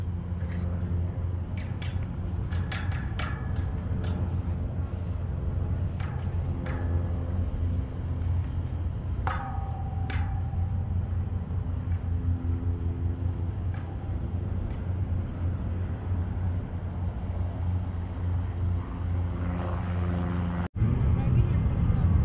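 Delta airliner jet engines during takeoff in Ontario, a constant deep rumble heard from inside the cabin, with people talking over it throughout.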